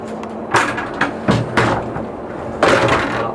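A tram driver's cab door is shut on a Semitag tram, giving several short knocks and thuds followed by a firmer close near the end, fairly close and without talk.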